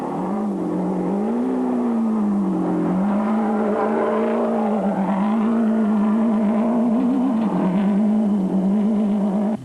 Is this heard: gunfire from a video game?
no